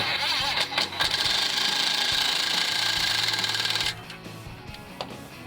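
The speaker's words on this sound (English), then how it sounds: "I like to get it almost all the way snug with the impact" An impact wrench rattles hard for about three seconds while tightening a band clamp on a 2015-2017 Mustang V6 Roush axle-back exhaust, then cuts off, leaving quieter clicks and handling noise.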